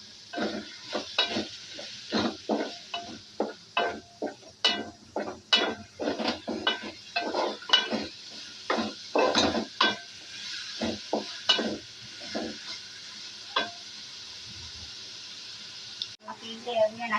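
Freshly ground roasted-coconut paste is stirred into a village-style beef curry gravy, with a long run of rhythmic metal scrapes against the pan over a soft sizzle, easing off near the end.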